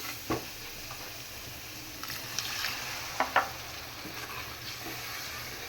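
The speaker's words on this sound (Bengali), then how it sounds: "সবগুলো মশলা দিয়ে এখন আমি এটাকে ভালো মতো কষাই নিই" Spice paste with free-range chicken being sautéed in a pan for a mung dal curry, giving a soft steady sizzle with a few faint stirring scrapes and clicks, no voices.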